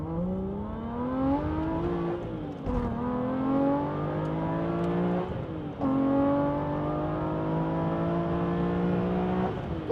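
Aston Martin V12 Vantage with six-speed manual, a V12 engine revving hard from inside the car during a speed test to the national limit, climbing through three gears with brief drops at each shift, loud and alone.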